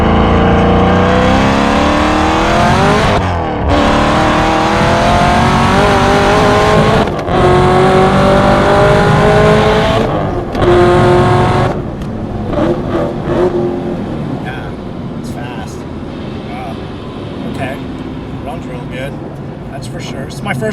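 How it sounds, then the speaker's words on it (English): A 1200 hp Chevrolet Camaro ZL1 1LE with an LT5 engine swap revs hard and loud, its pitch climbing through several gear pulls before easing off into a quieter, fading run. "LT5 swap, ZL1 1LE Camaro with 1200 horsepower."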